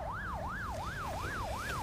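An ambulance siren sounds in a fast, repeating rising and falling wail, five even cycles, steady and moderately loud, with faint traffic rumble underneath.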